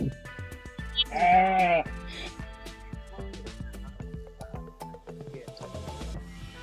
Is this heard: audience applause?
no